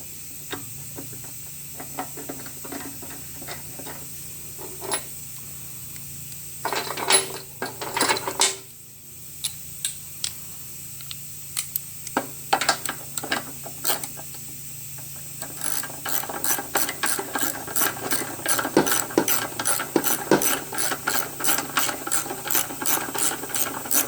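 Bolts being tightened by hand onto a tank-mounted Briggs and Stratton small-engine carburetor, heard as quick repeated ratchet clicks in short bursts, then a steadier, denser run of clicking near the end, close and fairly loud with no talk.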